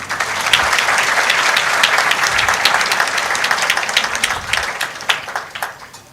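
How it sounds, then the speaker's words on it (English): An audience at an induction and orientation program claps in a sustained, dense round of applause to welcome guests, with the clapping thinning out toward the end. "Now, let's welcome all our guests with a round of applause."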